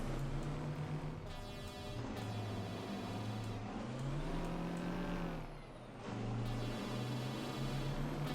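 A modded truck engine in American Truck Simulator drones steadily and loud, its pitch rising and falling as it revs and shifts, with brief hissing bursts over the rumble.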